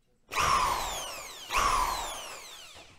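A power drill drives screws through plasterboard, with two close whirring bursts, each rising sharply and then winding down as the screw seats.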